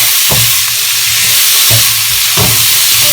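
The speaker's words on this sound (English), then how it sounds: "Put the pre-cooked beef in it. So that's where you sear it. So I'm searing it." Pre-cooked beef sears in a pan with a steady loud sizzle and hiss, broken by a few stirring scrapes as the meat is moved, while creamy beef and mushroom cooks.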